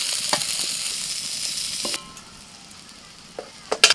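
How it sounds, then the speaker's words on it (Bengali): Cauliflower florets frying with salt and turmeric in a pan, stirred now and then: a steady sizzle for about two seconds that drops to a faint hiss, with a few sharp scrapes and taps of the spoon. "লবণ হলুদ দিয়ে নাড়াচাড়া করতে করতে কপিটা ভাজা হয়ে গেছে"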